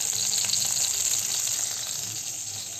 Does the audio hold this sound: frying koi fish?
yes